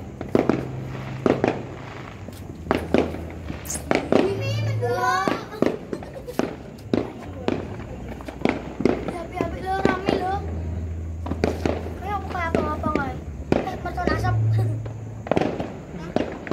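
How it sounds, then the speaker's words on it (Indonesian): Fireworks burst and crackle again and again at irregular intervals in Semarang, Indonesia, some close and loud, while people talk and a voice is heard nearby. "Kembang api yang"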